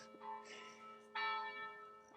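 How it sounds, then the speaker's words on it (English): Church bells ring in a steady peal with sustained, overlapping tones, swelling louder halfway through, with no talking over them. "The bells are going off."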